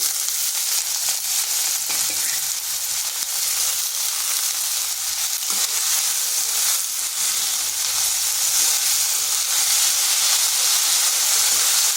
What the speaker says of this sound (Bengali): আলুগুলোকে আগে হালকা একটু ভাজা ভাজা করে নেব।